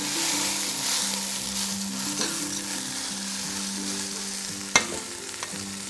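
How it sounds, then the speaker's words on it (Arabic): A rice mixture is gently stirred in a hot pot for saffron rice with chicken fillet, giving a steady soft sizzle with scraping stir strokes and a sharp utensil knock near the end. The sound is close and quiet, with no voices. "هقلب تقليب خفيف خالص بس لا يتغطى الرز عندي بهالخلطة الخفيفة"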